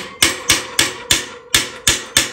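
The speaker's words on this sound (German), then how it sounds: "müssten wir jetzt durch einen zarten Hammerschlag hier ein bisschen mehr Platz schaffen" A hammer strikes the axle of a Hase Kettwiesel recumbent trike in light, evenly spaced blows, seven sharp metallic knocks about a third of a second apart, close and clear with no talk.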